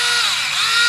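A Tamiya Electric Handy Drill, a small hobby drill for model making, spins freely with a steady, close, high-pitched motor whine that holds unbroken throughout.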